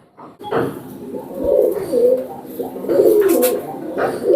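Oman Teddy pigeon cooing close by in a loft, a series of soft throaty coos in uneven bursts with a brief gap in the middle, no voices.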